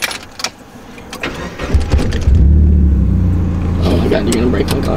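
The engine of a manual Mazda Miata catches and rises to a rumbling rev as a learner driver feeds in gas, a loud, close drone that holds steady after a shaky start while people talk.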